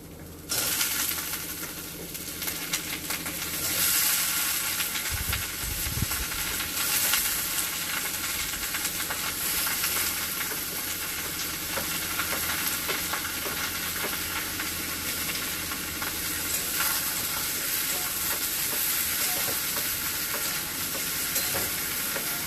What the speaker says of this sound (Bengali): সয়াবিনটা ভাজা হয়ে গেছে, এখন এই যে কাঁচা কলাটা দিয়ে দেবো ভিতরে।